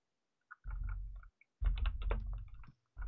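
Computer keyboard typing during a live coding session: two bursts of clustered key clicks separated by a short pause, close and fairly quiet, with no talking.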